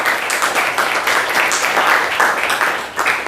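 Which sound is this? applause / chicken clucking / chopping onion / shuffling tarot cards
applause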